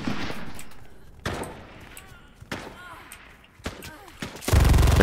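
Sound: gunshots in a shooter video game

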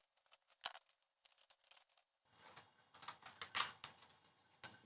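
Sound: cutting pink paper pieces for sheep craft

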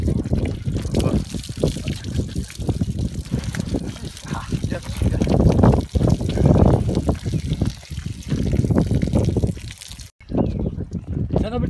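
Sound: water poured while washing animals with shampoo

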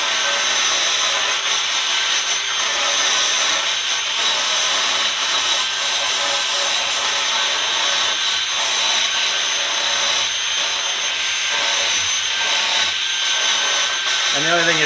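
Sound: rotary bristle brush sanding wood

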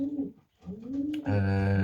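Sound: pigeon cooing

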